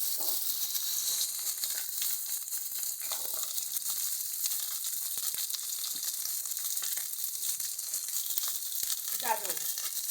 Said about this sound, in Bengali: সমস্ত কিছুকে ভালো মতন করে ভাজবো আমরা।